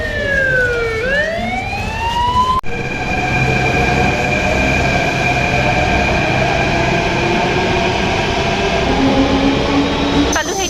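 A Delhi Metro train rolls along with a loud, continuous rumble and rising-and-falling electric motor whine, a sharp clunk partway through, heard from inside the carriage throughout.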